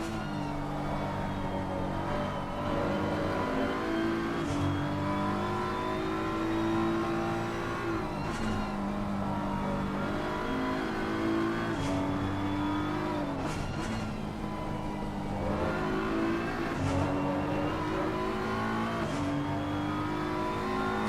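Race cars at Brands Hatch circuit during a Shooting Stars Cup race, engines roaring loudly and continuously as they accelerate through gears, with repeated rising revs and brief shifts.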